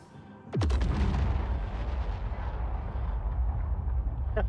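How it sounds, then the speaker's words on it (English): In the video game Star Citizen, a sudden heavy boom erupts, followed by a long rumbling roar that slowly fades, with another sharp burst near the end. "The explosions are cool."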